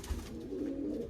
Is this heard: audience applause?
no